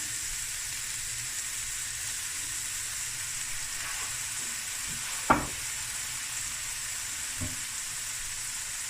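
Seafood sizzling in a hot pan as soy sauce goes in, a steady close frying hiss with a brief louder spike partway through and a faint clink later, no talking.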